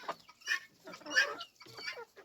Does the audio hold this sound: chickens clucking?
yes